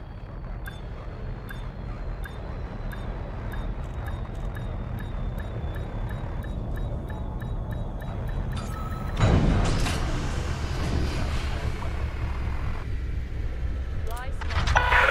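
In the game Elite Dangerous, a spaceship lands at a starport with a steady low engine hum and rhythmic electronic ticks, then a heavy whooshing touchdown surge; a voice speaks over it.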